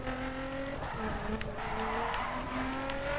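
Race car engine tones in The Crew racing game, several steady mid-pitched engine notes droning together with faint tire noise, like a rival car closing in from behind under the player's own car.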